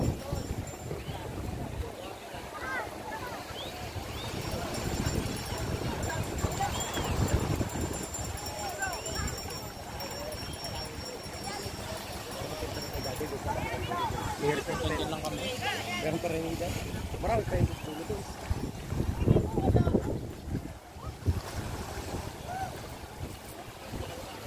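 Motor boat engine at White Beach, Puerto Galera, droning amid wind buffeting and surf, with people talking over it throughout.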